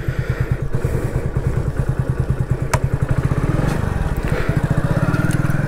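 A Hero HF Deluxe 100cc motorcycle rides along with its small single-cylinder engine thumping in a rapid, steady putter close to the microphone, with faint road clatter and no talking.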